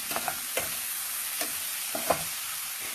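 Onion, garlic and butter sizzle in a pan while being stirred for garlic butter shrimp, a steady hiss with several short scraping clinks of the utensil.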